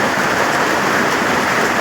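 Steady rain pours outside at a farm home, a dense, even hiss of drops on surfaces that holds at constant loudness throughout with no voices.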